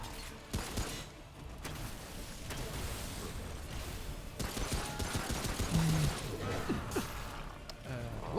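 Small-gun fire in the shooter Remnant: From The Ashes cracks out in repeated sharp bursts against a boss, with clanking mechanisms and gasping sounds between shots and game noise filling the background.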